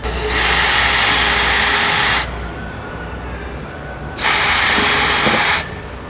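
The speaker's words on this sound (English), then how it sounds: "Remove it and we can drill them out." Power drill boring the two remaining mounting holes for wheel arch flares on a Toyota Corolla ZR, two loud steady whining bursts of about two seconds each, separated by a quieter pause.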